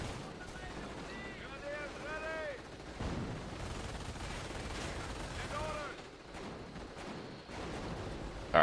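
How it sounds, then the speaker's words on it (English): Mortar blasts and rattling gunfire from the World War II strategy game Company of Heroes thud and crackle faintly and repeatedly, mixed with other game effects. "Also getting shot by this stupid mortar"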